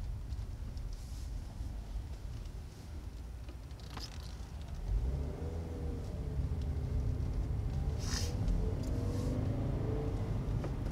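A 2017 Subaru WRX with a manual clutch rumbles along at a steady low drone, its engine note swelling a little louder about halfway through as it pulls away, with no talking.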